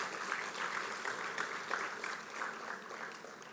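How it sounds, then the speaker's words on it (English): An audience applauds at a gathering, a steady burst of many hands clapping that fades slightly toward the end, heard at moderate distance. "So let's clap for them one more time."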